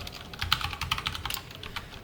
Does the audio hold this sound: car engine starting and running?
no